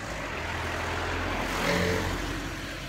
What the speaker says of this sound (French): il y a beaucoup de voitures ce matin